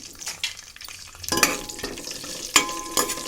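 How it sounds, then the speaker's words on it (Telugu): Curry leaves fry in hot oil in a pan for a mutton liver dish, with a soft sizzle broken by louder crackling bursts and stirring scrapes close by, the pops spiking near the middle and again toward the end. "కరివేపాకు వేపేసుకోవాలి."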